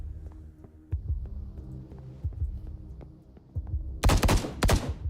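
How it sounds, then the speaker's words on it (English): Low steady hum with soft thumps, then a few loud, sharp video game gunshots in quick succession near the end. "More gunshots."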